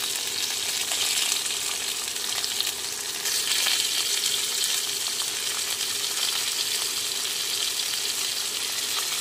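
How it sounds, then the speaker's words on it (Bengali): Diced potatoes and carrots fry in oil in a pan for savoury semolina, a steady close, loud sizzle with faint stirring scrapes running without a break, no voices. "আলুগুলো 2 থেকে 3 মিনিট ভেজে নিতে হবে।"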